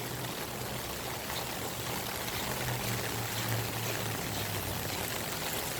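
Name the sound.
rainwater from roof gutters pouring out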